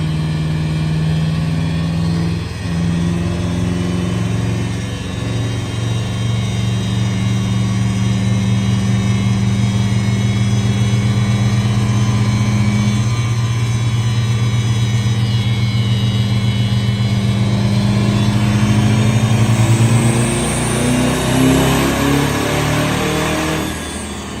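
Diesel truck strapped to a dyno at a diesel competition, expected to make around 1,000 horsepower, roars under sustained load with a deep steady drone that climbs in pitch toward the end, loud and close.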